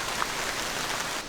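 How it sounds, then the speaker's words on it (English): Rain falls at night at a duck camp, a steady close patter of drops on a surface, dense and even for a brief moment with no voices. "Just kind of a rainy night."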